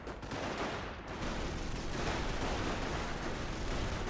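Sustained automatic fire from an M16 quad halftrack machine gun in the Company of Heroes battle game, a dense, continuous rattling roar that holds steady and loud for the whole stretch with no pauses.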